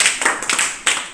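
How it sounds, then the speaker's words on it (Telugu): Children clap together in a classroom maths lesson: a few quick, loud bursts of hand claps in uneven rhythm, close by, without talking. "క్లాప్స్"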